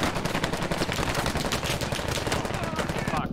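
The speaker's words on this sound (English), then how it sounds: "They're shooting at the Blackhawk, southwest." Rapid automatic gunfire rattles continuously in the military shooter Squad as enemies fire on a Blackhawk helicopter, dense and loud bursts with no pause.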